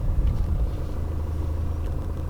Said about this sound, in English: sort of vibration sound when you go ahead and pop the car in reverse